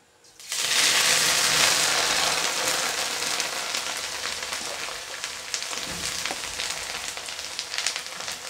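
Fresh green neem leaves simmering in new cooking oil in a pan, a steady close sizzle and bubbling that starts abruptly and continues evenly, with faint clinks.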